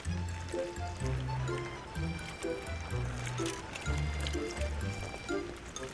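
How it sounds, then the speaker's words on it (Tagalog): Water pours and gurgles in short bursts into a self-heating hotpot, close by and fairly quiet, with a faint bubbling rhythm as it fills. "Lagyan na natin ito ng tubig para mag-activate na siya at uminit na siya"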